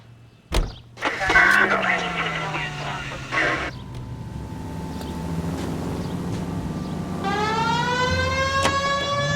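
A police car siren wails in the video game L.A. Noire, rising in repeated swooping tones near the end, after a door thud, a car engine starting and a brief whirring; people talk over parts of it.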